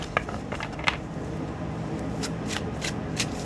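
A tarot deck is riffled and shuffled close up, soft papery flicks and a few sharper card snaps repeating over a quiet room hum.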